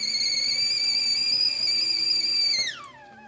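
A kettle's high, steady whistle holds loud and shrill for a few seconds, then drops in pitch and fades as it eases off.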